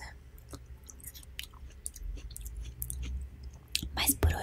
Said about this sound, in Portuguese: Você andou dando uma mordida na minha melancia